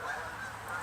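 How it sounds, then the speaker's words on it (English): Geese honk outdoors, a brief burst of overlapping nasal honks at close to middle distance, with no one talking over them. "Look at these geese."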